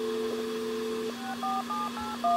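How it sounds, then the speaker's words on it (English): Telephone redial tones during a satellite internet hack, a steady hum under a series of short, evenly paced beeping dial tones that step between pitches, clear and alone. "Let's do a redial on the phone here."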